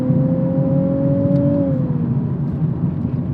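A Nissan 370Z NISMO with its VQ V6 engine hums at a steady cruise, a clear tonal drone that rises slightly and then dips as the revs ease off, with road rumble underneath.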